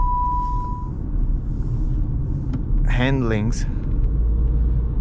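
Steady low road rumble fills the cabin of a comfortable, simple car driving along a road, with a brief high tone at the start and a short stretch of speech partway through.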